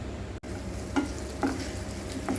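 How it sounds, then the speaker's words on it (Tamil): Medium-sized onion, sliced thin, sautés in two or three spoons of oil in a pan, a steady close sizzle broken by a few soft stirring scrapes, with no voices. "நான் அதே பேனில் ஒரு ரெண்டு மூணு ஸ்பூன் எண்ணெய் ஊற்றிக்கிறேங்க ஊற்றிக்கிட்டு வெஜிடேபிள்லாம் இதில் வதக்கிக்கலாம்"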